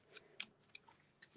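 Card stock being trimmed with scissors: several quick, crisp snips and ticks in close succession, close and quiet.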